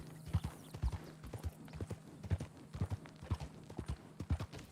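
Horse hooves clip-clop in a steady walking rhythm in Red Dead Redemption 2, soft even thuds repeating close by across the whole stretch, without voices.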